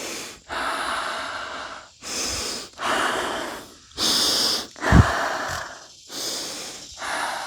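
Deep, slow breaths drawn in and pushed out during a fascial jaw exercise, about seven long rhythmic cycles with brief pauses between them and a sharp snort near the middle, close and fairly loud with no talking.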